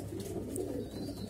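Soft pigeon cooing from a loft where pigeon eggs are being sorted, a low, steady murmuring coo running through the moment, faint and with no talking.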